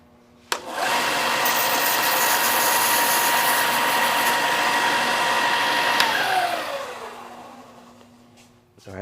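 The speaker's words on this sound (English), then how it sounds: "I have to run off and sand the bottom on this thing. That'll take 2 seconds on my belt sander." A reasonably large belt sander runs steadily for several seconds while sanding the bottom of a model engine shed piece, a loud continuous whir that starts abruptly and then winds down as the motor slows and stops.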